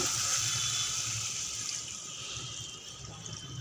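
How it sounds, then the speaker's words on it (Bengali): Water poured into a pot of bhangon fish curry with cauliflower, a steady broadband splash and trickle that runs close and fairly even, easing slightly toward the end with no talking. "পরিমাণ মতন জল দিচ্ছি যাতে ঝোল হবে"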